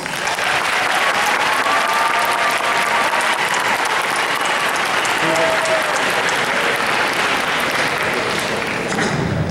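Sustained, dense applause from a large crowd at the Towson High School graduation ceremony, steady and loud throughout with no break, tapering only at the very end.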